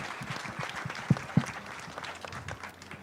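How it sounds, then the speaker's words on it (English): Applause for panelists at a trade fair, with broadband clapping texture, a couple of sharp claps standing out, moderately quiet and steady over three seconds. "please give a warm round of applause to our panelists today"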